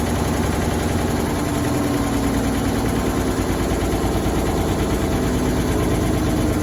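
A 1923 Buick Series 23 engine idles after a cold start with a steady, loud, close mechanical rumble and an even knocking beat throughout, no voices.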